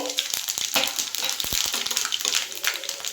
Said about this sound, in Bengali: কড়াই একটু তেল দিয়ে দিয়েছি এর মধ্যে এক চামচ গোটা জিরে দিয়ে দিলাম ফোড়নে